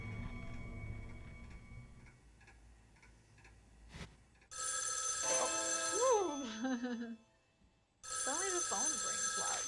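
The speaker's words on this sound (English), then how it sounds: "suddenly the phone rings loudly." A telephone in the Spirit Hunter NG game rings loudly in two bursts of shrill trilling bells separated by a short pause, with a brief spoken exclamation beforehand over a quiet ambient backdrop.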